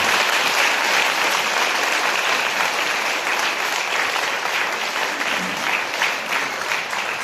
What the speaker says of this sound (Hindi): ये ताली से काम नहीं होगा।